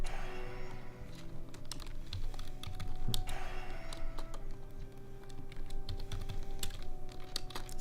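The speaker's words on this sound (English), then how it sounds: "It's also like a lot of typing." Rapid typing on a computer keyboard, steady clusters of close, crisp key clicks with brief pauses, under soft game music and ambience, no talking.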